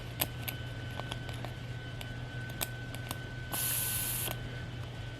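Air hisses from the tube of a vintage Vespa tire in a short, bright burst lasting under a second, set among faint clicks and a steady low background hum.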